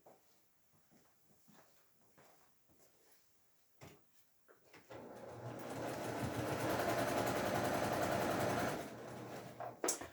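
A sewing machine stitches quilt block pieces for a Pearl Stars block. Quiet handling clicks and rustles come first, then the machine runs at a steady fast whir for about four seconds before stopping.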